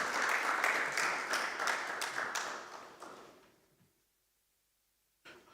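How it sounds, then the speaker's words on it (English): An audience at a climate innovation conference gives a speaker a round of applause. The clapping is dense at first, thins and fades into silence, and a brief knock follows. "A round of applause for him once again"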